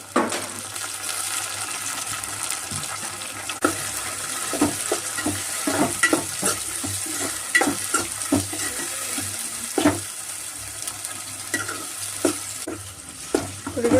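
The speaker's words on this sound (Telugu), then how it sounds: "ఇప్పుడు పచ్చిమిర్చి వేసుకున్నాము ఇప్పుడు టమాటా వేసుకున్నాము" Green chillies and tomatoes sizzle in a pan for a country chicken curry, a steady frying hiss broken by repeated scrapes and knocks of a spoon stirring.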